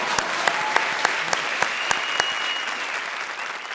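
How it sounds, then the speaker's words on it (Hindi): A studio audience at a televised comedy show claps in a steady, sustained burst of applause that fills the room from start to finish. "ठोको ताली."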